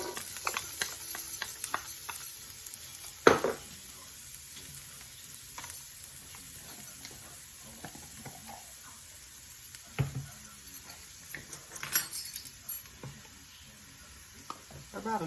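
Onion fries in a tablespoon of olive oil with a soft, steady sizzle. Occasional louder scrapes and stirring clatters punctuate it at intervals.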